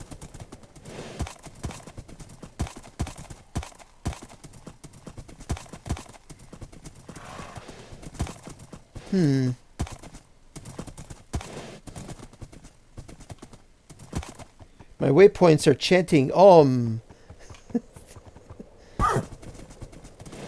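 A horse in the video game Seven trots with steady clip-clopping hooves, punctuated by loud whinnies and neighs, while a person talks over it now and then.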